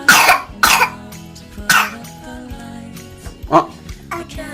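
A toddler at home gives a series of sharp, close coughs, four or five bursts spaced irregularly, with a low murmur of other sound between them.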